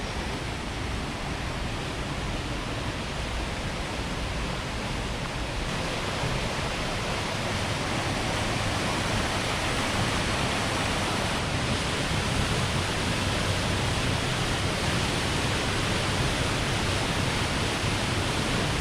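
Pelisan waterfall in Bali after rain, a steady broadband roar of falling water heard up close, constant and unbroken throughout with no voices.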